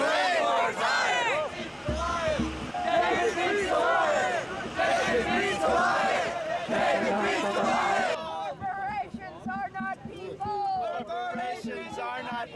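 Outdoor protest crowd at the Occupy DC camp chanting together in loud rhythmic unison, voices shouting and overlapping for several seconds before thinning into scattered cheers and calls.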